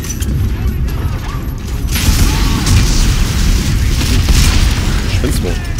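Grenade blast in the sci-fi horror shooter Dead Space 3, a loud booming burst that swells into sustained rumble and mechanical clatter, with someone talking over it.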